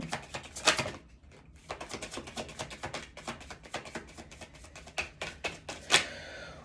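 Rapid, crisp riffle-like slaps of tarot cards being shuffled, in an uneven run of close, sharp clicks with brief pauses between bursts.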